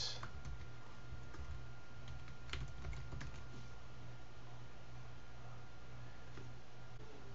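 Keys clicking on a computer keyboard as an email address is entered, faint and steady with scattered taps over a constant low hum, no voices.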